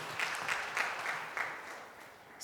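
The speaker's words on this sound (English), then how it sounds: "A round of applause." Applause at a career expo, a thinning patter of a handful of claps at a fair distance, with distinct individual claps fading out over a couple of seconds.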